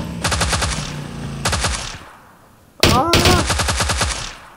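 Rapid automatic gunfire in the video game PUBG, several loud bursts of closely spaced shots separated by short gaps, with a brief vocal exclamation in between.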